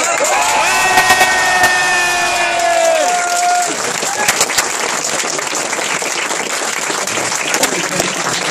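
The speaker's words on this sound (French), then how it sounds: "Je crois qu'on peut leur faire un putain d'applaudissement." Loud crowd applause and cheering for two people, first overlapping a tonal musical sound, then continuing as dense, sustained clapping with scattered shouts.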